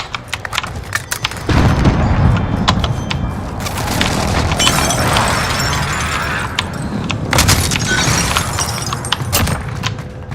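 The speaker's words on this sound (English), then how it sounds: "Enemy precision airstrike." Heavy booms and crashing blasts from an enemy precision airstrike in Call of Duty, sustained explosive rumble over about ten seconds with scattered sharp impacts and debris, loud and close.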